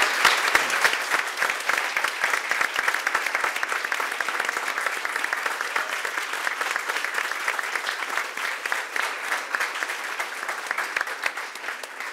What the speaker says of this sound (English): I would like to have an applause for the team that it is behind this conference, for Gloria, for Íñigo, for Marta.